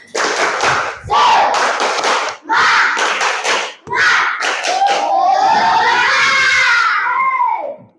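A class of children claps in rhythmic bursts together, with chanting voices and a rising shout at the end, close and loud.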